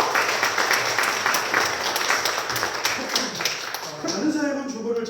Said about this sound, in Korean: 우리 큰 박수로 감사하고